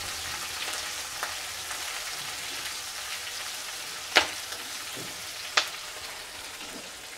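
A soybean curry mixture with finely chopped chili fries in a pan with an even, rain-like sizzle, broken by a few sharp clinks of a spoon stirring against the pan.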